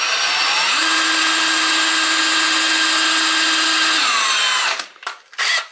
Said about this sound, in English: Now I'll just pre-drill some screws and get them going.